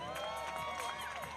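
At the 2021 Rogue Invitational, a crowd cheers and shouts continuously for strongman Josh Thigpen holding a replica Dinnie Stone, many voices blending into a dense, sustained roar.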